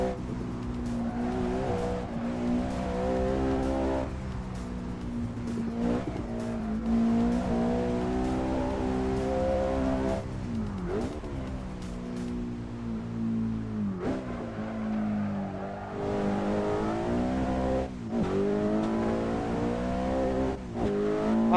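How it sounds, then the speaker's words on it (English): A 2023 Honda Civic Type R driven in a truck simulator game, its engine revving up and down through gear changes with repeated tire squeals and skids, loud and continuous with no talk. "I'm driving the Honda Civic 2023 Type R."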